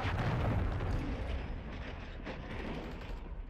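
A friendly cruise missile strike in a first-person shooter game sets off a deep, heavy explosive rumble that starts loud and booming, then slowly thins into a rolling, crackling decay over several seconds.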